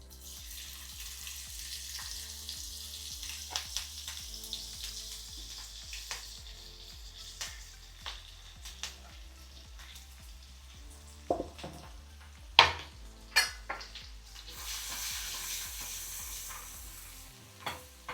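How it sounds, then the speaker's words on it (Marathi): Onion sizzling in hot oil in a heated kadhai with a little asafoetida and turmeric, a steady close frying hiss broken by occasional sharp clinks and scrapes of a spoon stirring, with no talking. "कढई तापलेली असते, तेल तापलेलं असतं, त्याच्यामुळे कांदा व्हायला वेळ नाही लागत."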